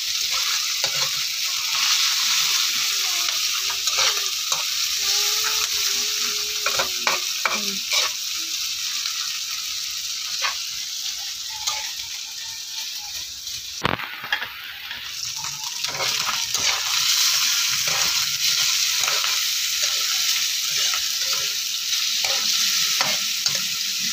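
Chicken pieces and a little liver frying in a pan for pancit canton, a loud continuous sizzle with repeated spatula stirring and scraping, close up, briefly interrupted by a splash of water midway.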